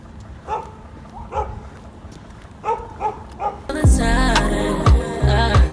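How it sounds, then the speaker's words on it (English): In Istanbul, several dogs bark in short, scattered yips at a moderate distance, then louder music and commotion swell in and partly cover the barking. "many dogs."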